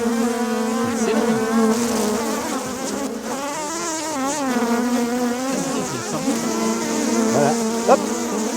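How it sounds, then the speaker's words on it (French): Honeybees buzzing at a beehive in Touraine: a dense, continuous, close hum of many wings with wavering pitch, steady throughout, with no voices. "La nouvelle abeille, elle est juste là."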